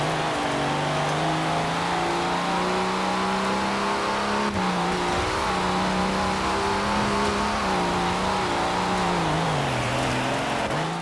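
A Mini John Cooper Works Countryman engine in Forza Horizon 4 drones steadily off-road, its pitch rising and falling smoothly as it accelerates and eases off, loud and continuous throughout.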